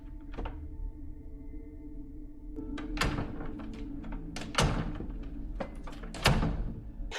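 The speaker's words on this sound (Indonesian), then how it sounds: "Saat sudah berada tepat di depan pintu, Robert tiba-tiba mengetuk-ngetukkan pintunya 3 kali." Three sharp knocks on a door in a tense film scene, spaced irregularly over a steady low background hum, each a loud close thud rising above the quiet room.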